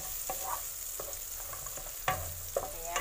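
Onion sizzles steadily while frying in a pan for farfalle pasta with tomato and peas, with a soft constant hiss broken by several scraping stirs, close and quiet.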